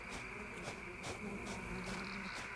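Bees buzz in the medieval farming game Mirthwood, a faint steady drone with a wavering hum and soft pulsing, quiet and alone.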